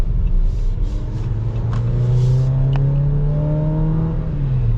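A 2022 Jeep Compass Limited accelerates in traffic, its engine note rising in a steady, close, continuous drone with a climbing pitch and steady rumble throughout.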